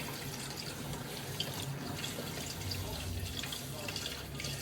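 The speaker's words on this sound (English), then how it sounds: "I'm just going to wet a tea towel, just damp." Tap water runs steadily into a kitchen sink to dampen a tea towel, a continuous close splashing rush that lasts throughout, with no talking.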